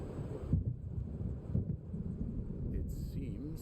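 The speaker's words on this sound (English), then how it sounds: "It seems there's a storm coming." Thunder rolls from an approaching storm over dark water in the video game Alan Wake Remastered. It is a low, muffled rumble with wind-like noise, fairly faint and swelling in irregular waves.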